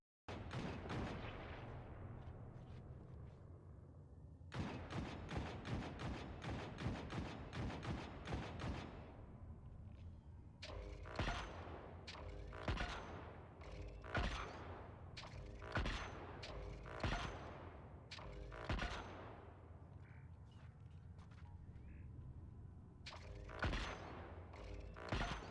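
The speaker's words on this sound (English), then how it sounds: "Now we can just headshot this guy a few times." Repeated rapid bursts of gunfire in Destiny 2 while headshotting an enemy, clustered volleys separated by short pauses over about twenty-five seconds, fairly close and steady in level.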